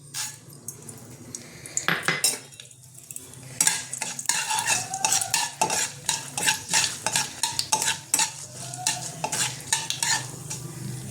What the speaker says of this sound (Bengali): এবার আমি ফোড়নটা দেবো, শুকনো লঙ্কা আর কালো সর্ষে।